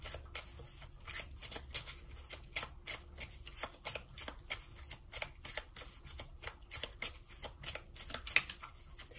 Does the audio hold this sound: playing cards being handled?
yes